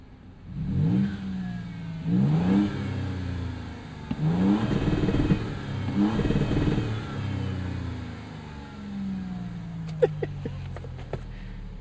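A tuned twin-turbo 2026 Toyota Tundra TRD Pro with 466 hp revs up four times in repeated, evenly spaced climbs and drops, heard close and loud. It then settles to a lower hum, and a few sharp clicks follow.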